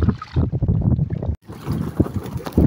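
Strong gusting wind buffets the microphone, with the rush and slap of rough saltwater waves around a fishing boat off Lucena City, Philippines, and a brief dropout midway.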